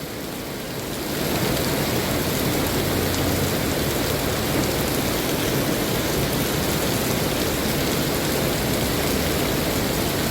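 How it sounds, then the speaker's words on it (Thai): Heavy rain pours down in a loud, dense, unbroken roar that swells in within the first second and then holds steady, with no voices. "ภาวนาขอให้ฝนหยุดตกโดยเร็ว"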